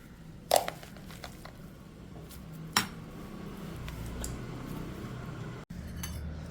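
Ground beetroot being scraped from a mixer jar into a bowl in a kitchen, with a few sharp metallic clinks of spoon against container over faint rustling handling noise.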